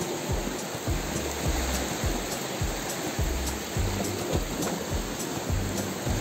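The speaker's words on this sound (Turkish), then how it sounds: "Hem su kenarında hem tatlı su akıyor" Freshwater stream flowing at the seaside in a hidden Alanya cove, a steady close rush of water with soft low gurgling pulses and no talk.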